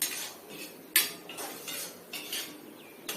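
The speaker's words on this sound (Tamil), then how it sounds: "இப்போ இந்த பேஸ்ட்டை நம்ம நல்லா பச்சை வாசனை போகிற அளவுக்கு நம்ம வதக்கிறோம்" Coriander paste being stirred and sautéed in a pan for coriander kara pori, with scraping spoon strokes and soft clinks against the metal, one sharp knock near the start, steady and close with no talking.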